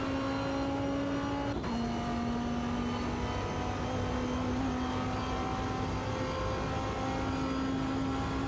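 Race car engine in Automobilista 2, 2005 endurance class, droning steadily with a sharp throttle blip near the start, then a sustained even engine tone throughout.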